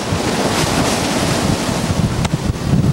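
Strong easterly wind and rolling ocean waves roar around a yacht sailing the open Pacific toward Tahiti, a steady loud wash with wind buffeting the microphone and a brief sharp gust or splash near the end.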